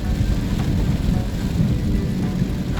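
Heavy rain beats on a car while it is driven, a dense, loud, continuous roar of rain and road rumble with no talk.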